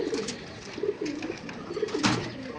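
A six-month-old pigeon coos close by in several soft, throaty rolling phrases with short pauses between them, over faint room noise and no talking.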